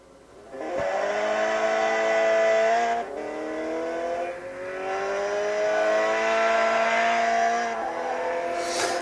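Racing video game car driven with accelerometer steering on a Xiaomi Mi5S Plus phone, its engine droning loudly and steadily, pitch climbing through gear changes with brief dips between shifts, no talk.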